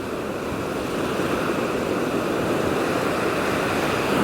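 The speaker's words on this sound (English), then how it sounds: "you've got that hypnotic sound of the sea" Sea waves washing onto an empty beach in Thailand, a steady broadband rush of surf that swells slightly, continuous and close with no voices.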